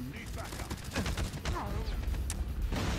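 Shotgun blasts and other weapon fire in Call of Duty Mobile multiplayer, a dense run of sharp reports close together under excited chatter from players.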